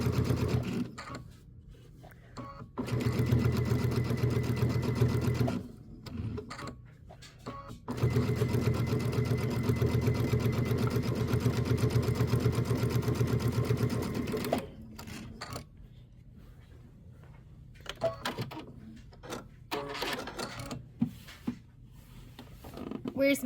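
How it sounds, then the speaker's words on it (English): A sewing machine chain-pieces quilting fabric with automatic presser-foot lift, running in two long bursts of rapid stitching separated by pauses, then quieter handling sounds as a person talks over the gaps. "my auto lift is on, so every time I take my foot off the foot control, it will automatically lift the foot, and I can put my next two pieces under"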